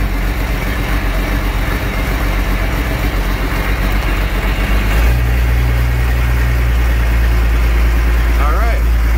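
An Allis Chalmers tractor engine turns over and catches, then settles into a loud, steady low idle that carries on alone to the end, with a brief squeak near the finish.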